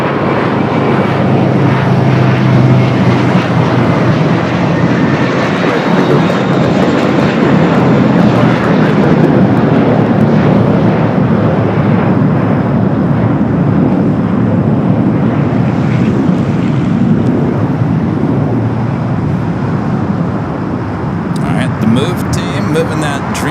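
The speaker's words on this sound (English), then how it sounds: "That American flight taking off heading to JFK" An American airliner takes off from LAX bound for JFK, and its jet engines make a loud, steady roar that carries through the whole stretch. A person talks over it.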